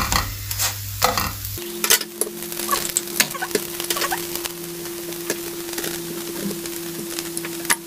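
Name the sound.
paratha cooking in a pan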